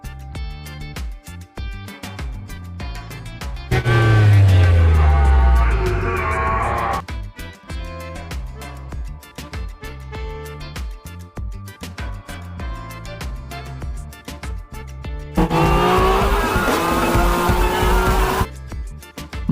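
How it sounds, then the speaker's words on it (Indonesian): Revving car engines and squealing tires in two loud bursts during a film car chase, with a continuous background score between them. "Tinggal satu mobil terakhir yang masih mengejar mereka."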